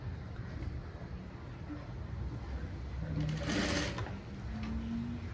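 Sewing machine stitching a blouse sleeve, running steadily through a low background hum, louder in a brief burst near the middle.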